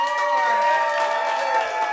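A theater audience at a live mentalist show cheers and claps, a dense crowd roar with a sustained tonal whoop or whistle running through it throughout.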